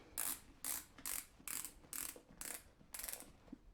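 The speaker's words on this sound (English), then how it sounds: "It's just this little dial. You click it out, it loosens up." A small ratchet dial on Icon Patrol 2 motorcycle boots is turned, giving seven crisp, evenly spaced clicks about half a second apart, close and quiet.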